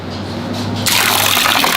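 Oil drains from a car into a bucket, starting as a quieter trickle before a sudden louder, steady gushing pour takes over, close and continuous.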